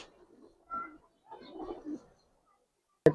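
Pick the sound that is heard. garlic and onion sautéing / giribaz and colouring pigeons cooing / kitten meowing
giribaz and colouring pigeons cooing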